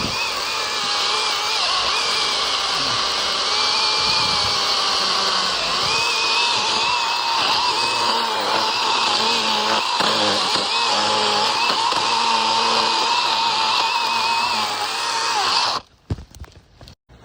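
A Makita DUC150 cordless mini chainsaw cuts steadily through a log over 20 cm thick, a loud continuous whine under load for about fifteen seconds before it abruptly stops.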